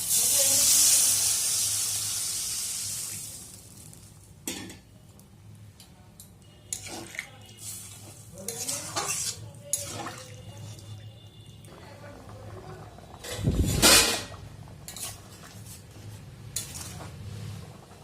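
Water poured into a sizzling prawn curry in the pan gives a loud hiss at first, then fades into scattered clinks of a spoon against the pot, a few bubbling pops and one louder scrape.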